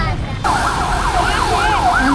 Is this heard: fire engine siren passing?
yes